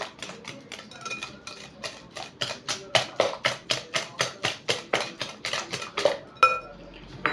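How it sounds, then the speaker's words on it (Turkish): A whisk beats cake batter and milk in a bowl with a fast, even run of clinking strokes, about three per second, loud and close and steady throughout, with no talking. "Böyle bir çay bardağı süt. Gene çırpacağız."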